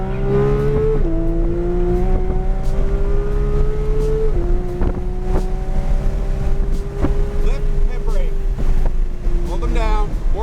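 A Porsche 992.1 GT3 engine on a race track roars loudly and steadily, its pitch climbing under acceleration and stepping down sharply as the car brakes, with a voice speaking over the engine and wind noise throughout.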